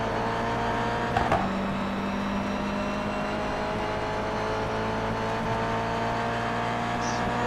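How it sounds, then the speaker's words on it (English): Mazda MX-5 race cars battling in a tight pack on track, a sustained engine drone with steady tonal whine and a brief louder burst early on, heard at a distance. "followed by 5 MX-5s that are also battling with each other at the same time"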